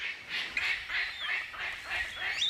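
Palm cockatoo calling in an Australian rainforest, a series of harsh, honking squawks repeated steadily every half second or so, fairly close and clear with no voices.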